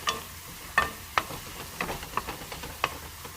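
Mushrooms and shrimps are stirred in a hot stir-fry pan, a low sizzle broken by a series of sharp, irregular scraping clicks from the utensil, close and with no voices.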